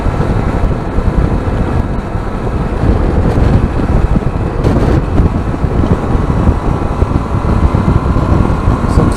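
Steady, loud wind buffeting roars over the rider of a Yamaha Tracer 700 motorcycle fitted with a windscreen extender, a continuous rumbling rush with engine drone underneath and no talk.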